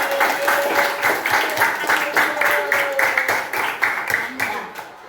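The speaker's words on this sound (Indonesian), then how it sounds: "tepuk tangan untuk Aisyah dan Khois" Children in a classroom clap together in a quick, fairly regular rhythm, a loud and close burst that fades slightly toward the end.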